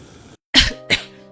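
Two close, harsh coughs from a woman feeling unwell and anxious, the first louder and longer, the second shorter, after a brief silence with a faint low hum underneath.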